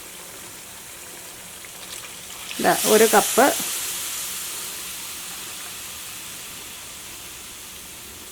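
Boiling water poured into a pan of spicy sardine or mackerel fish pickle made with vinegar gives a short, sharp sizzling hiss of about a second. It fades into a quiet background, with a brief voice nearby.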